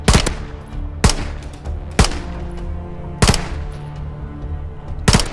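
A heavy-recoil gun firing in Modern Warfare 3's campaign, loud close shots spaced about a second apart, some doubled, each with a ringing tail over a low background hum.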